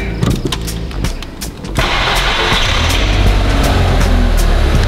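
An Audi TT Cabriolet under restoration starts up with a cranking whir. The engine then catches into a steady, loud, close idle that lasts to the end, with no talk.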